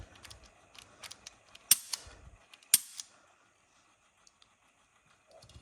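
A Taara TM-9 pistol fires a few sharp, fairly quiet cracks spread across a few seconds, with small clicks and handling noise between shots and no talking.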